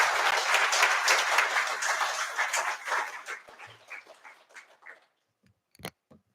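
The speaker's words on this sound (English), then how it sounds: "Please welcome her with a huge round of applause" Audience applause welcoming someone speaker onto a stage at a civil services society event, a loud, dense burst of clapping that thins into scattered claps and fades to near silence, with a final lone clap.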